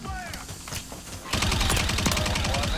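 Dense automatic gunfire in the video game Warzone erupts about halfway through, loud sustained bursts following a quieter stretch with scattered shots and game noise.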